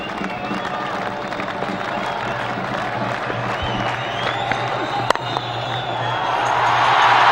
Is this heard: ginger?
no